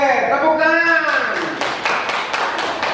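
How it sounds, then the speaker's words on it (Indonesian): A primary-school class claps for classmates who have just presented their drawings. A voice speaks at the start, then a short run of brisk, fairly loud handclaps follows close by. "Oke, tepuk tangan."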